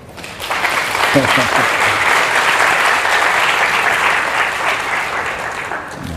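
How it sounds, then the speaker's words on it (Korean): A lecture hall audience breaks into loud, sustained applause, with dense clapping swelling quickly and holding steady for several seconds before easing slightly at the end. "박수 한번 쳐주세요."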